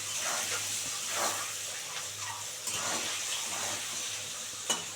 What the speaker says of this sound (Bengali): এবার ডিমটাকে খুব সুন্দর করে ভেজে নেবো,